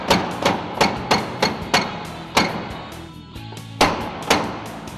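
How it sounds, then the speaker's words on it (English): A hammer taps out an aluminum rope drum wedged in the frame of a JLG LiftPod lift, with about ten sharp metallic blows in an uneven rhythm, close and loud, separated by a brief pause. "we need to tap out the drum that's compressed in between the frame here"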